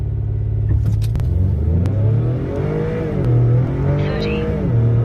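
An Acura TLX SH-AWD 2.0T launches hard off a brake-boosted start, its engine droning loudly and rising through the gears in steady pulls heard from inside the cabin.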